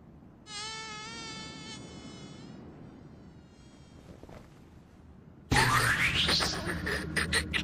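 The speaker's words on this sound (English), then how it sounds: "Damn mosquitoes!" Mosquitoes buzz in the Minecraft video game, a steady high whine with wavering harmonics that starts after half a second and fades. A loud burst of a different effect then cuts in near the end.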